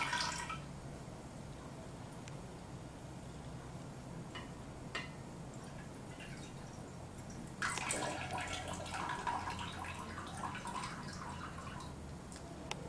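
Liquid humic acid solution is slowly poured off a settled sediment, giving soft trickling and occasional drips, with a fuller splashing pour in the latter half, close and fairly quiet.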